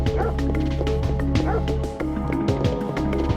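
Several dogs bark and yip in the police department of the video game Parasite Eve, with short repeated barks and whimpers over steady background game music.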